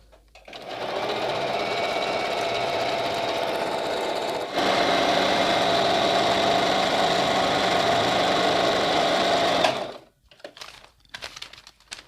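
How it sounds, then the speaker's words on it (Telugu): A Singer Talent 3321 sewing machine stitches a blouse design in a steady, fast, whirring run. It pauses briefly, starts again a little louder, then stops, followed by soft handling sounds. "కనిపిస్తుంటే నేను రౌండ్గా అలానే కుడుతుంటాను."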